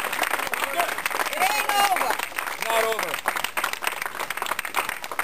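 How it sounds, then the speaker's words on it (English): Outdoor crowd applause and cheering at an eviction protest, uneven clapping with raised voices and shouts mixed in, swelling and fading in bursts. "Let's give her a round of applause."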